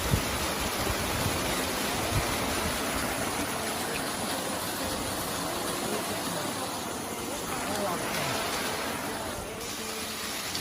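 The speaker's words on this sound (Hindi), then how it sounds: "जगह जगह से पानी गिर रहा है।" Water falls and gushes from many spots across a green valley, a steady broadband roar of rushing water lasting throughout, with faint traffic-like rumble underneath.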